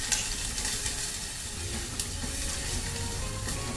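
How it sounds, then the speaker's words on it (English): A pan stir-fry hisses and crackles in a steady, close sizzle with faint scraping ticks from stirring, and no voices. "So you just give it a little stir fry"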